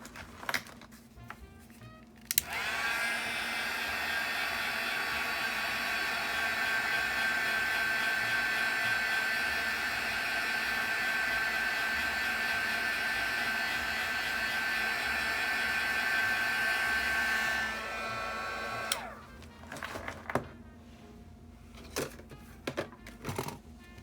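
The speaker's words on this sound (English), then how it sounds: "you'll go ahead and heat set it for a couple of seconds with your heat tool" A heat tool blows with a steady, loud whirring hiss for about sixteen seconds while setting stamped ink, switching on abruptly and winding down, with faint handling clicks before and after.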